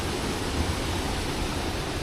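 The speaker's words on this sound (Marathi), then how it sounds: "तिकडे छोटा धबधबा आहे." Small waterfall fed by pressurised canal water on a rainy day in Konkan, heard as a steady, dense rushing wash that holds constant and fairly close with no voices.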